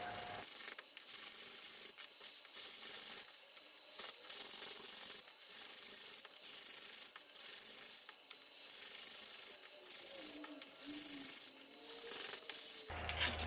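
Wooden knife handle scales being sanded by hand: rhythmic back-and-forth rasping strokes in regular bursts, close and fairly loud, with brief pauses between passes and no talking.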